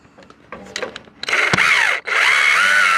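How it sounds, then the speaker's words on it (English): A power drill bores deeper into a hole to seat a screw extractor on a Chevy 6.5 turbo diesel Express van, starting with a few short bursts, then running in a loud, steady whine with one brief pause. "or I gotta drill that hole deeper"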